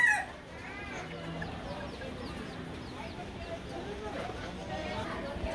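Japanese bantam chickens on a farm in Moca, Dominican Republic, clucking steadily with a crow rising among them, the calls close and continuous, with people talking nearby.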